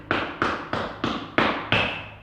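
Six heavy foot stomps thud on a floor inside the Ohio State Reformatory in Mansfield, Ohio, at a steady, slightly uneven pace, each one sharp and close with a short ringing decay.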